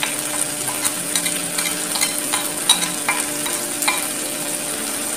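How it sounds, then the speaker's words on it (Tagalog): Chili powder and salt being stirred together for a creamy penne pasta with sardines, heard as a steady soft scraping with light clicks and taps against a bowl, fairly close, with no talk. "pinagsama ko na yung chili powder at saka yung salt"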